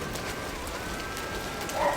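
Light rain beginning to fall produces a faint, even patter of scattered drops on surfaces, a soft continuous hiss with small ticks and no voices.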